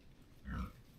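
One short, low grunt from a feeding pig in an outdoor pen, faint and somewhat distant, rising briefly out of quiet background noise.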